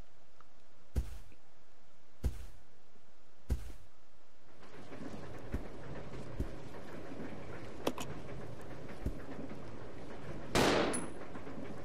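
Several sharp gunshots in the Resident Evil 0 video game, three loud evenly spaced blasts followed by quieter scattered shots over a rumbling ambient background, ending in a bright burst.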